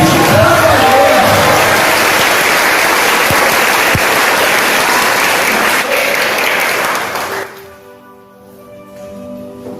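A large audience at a religious retreat applauds loudly and steadily for several seconds, the clapping fading out as a voice begins speaking at the end.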